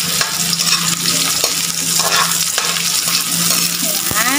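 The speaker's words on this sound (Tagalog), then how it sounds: "halu-haluin lang natin" Ginger and garlic sizzle and fry in a pan while being stirred, a steady close hiss with scraping stir strokes throughout, no voices.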